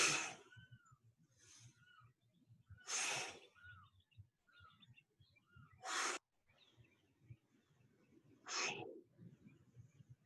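Heavy, forceful breaths during a bodyweight exercise routine: about five loud, airy exhales and inhales spaced a couple of seconds apart, close to the microphone over a low, quiet background.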